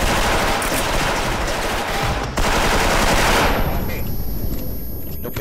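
Rapid automatic gunfire in the Special Force video game, loud and continuous bursts of shots rattling for several seconds with a brief break midway, dense and close throughout.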